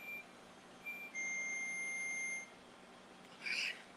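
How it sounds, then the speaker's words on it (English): A kitchen timer goes off with several shrill electronic beeps: short tones, then a longer held beep, then a brighter burst near the end. "Okay, the timer's going off."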